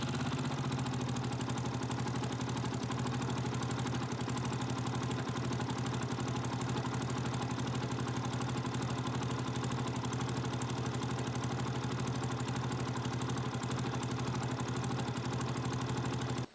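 A Yamaha YBR 125 motorcycle fitted with an ethanol kit runs at a steady, loud idle, its low engine drone continuous and unbroken throughout with no voices over it.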